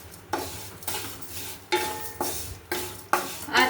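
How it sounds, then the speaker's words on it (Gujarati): Vermicelli roasting in a few spoonfuls of ghee on low flame, stirred in repeated sweeping strokes roughly every half second to second, each pass bringing a brief scrape and light sizzle, close and alone. "આ રીતે તમારે હલાવવાની છે ધીમા તાપે।"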